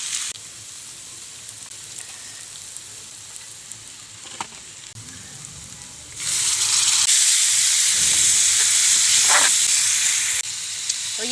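Hot oil sizzles and crackles steadily while tempering spices, then surges into a loud, dense frying hiss partway through as something is added to the pan.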